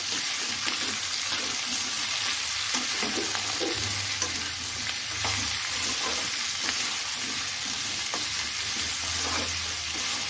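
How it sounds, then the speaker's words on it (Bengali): Young jackfruit pieces fry steadily in hot oil, a dense continuous sizzle with faint stirring scrapes, close and alone without talk. "এঁচোড়গুলো দিয়ে দেবো তেলে। এঁচোড়গুলো আমি হালকা লাল করে ভেজে নেব।"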